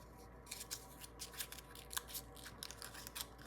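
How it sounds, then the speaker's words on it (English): Scissors snipping through plastic packaging during an unboxing, a quick series of crisp, close cuts and crunches at an uneven rhythm, with no talking. "Show you how good these scissors are."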